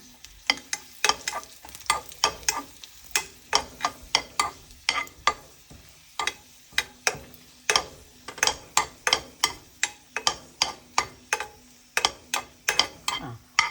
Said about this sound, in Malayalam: എണ്ണ ചൂടായിട്ടുണ്ട് അതിലേക്ക് ഞാൻ ഈ ഉണക്കമുളക് ഇടുകയാണ്